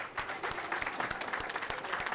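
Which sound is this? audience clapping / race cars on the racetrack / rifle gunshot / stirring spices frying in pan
audience clapping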